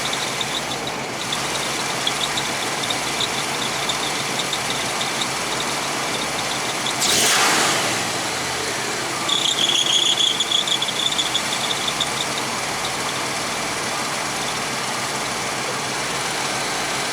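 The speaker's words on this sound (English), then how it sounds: "Got a little bit of squeal." An RV engine idles with the air conditioner on max while a high squeal from the alternator belt rises over the steady rumble, alongside a brief rushing burst midway.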